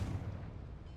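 A Confringo fire spell blast in Hogwarts Legacy: one short, deep booming burst, low and rumbling, fading quickly, with no talk over it.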